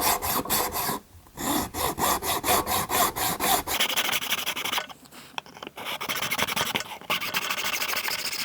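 A hacksaw cuts through a plastic airsoft rifle magazine in steady back-and-forth strokes, close and loud, with a brief pause partway before the rasping strokes resume at a quicker, rougher pace.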